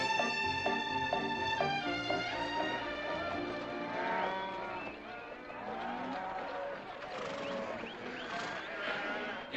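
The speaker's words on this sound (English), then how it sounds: "You got cattle in the back, boss." Cattle moo and low in the back of a moving vehicle in a 1963 Western film scene, several overlapping calls close by over rumbling motion and hoofbeat-like clatter, with faint voices underneath.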